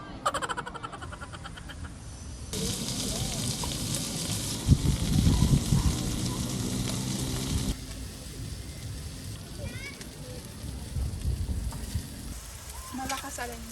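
Steady hiss of rain falling at a picnic grove campsite, loud and continuous, with a murmur of voices in the background.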